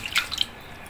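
A few brief water drips and splashes fall while a banana leaf parcel of hilsa fish tied with string is rinsed, with two or three small drops close by and then quiet.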